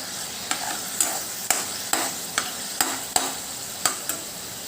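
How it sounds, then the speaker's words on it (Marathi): Grated tomato sizzling in a pan for green moong dal curry, stirred with a spoon in regular scraping strokes about twice a second over a continuous frying hiss. "तोही चांगला मिक्स करून घेऊया"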